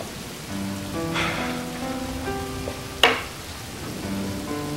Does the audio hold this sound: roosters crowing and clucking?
no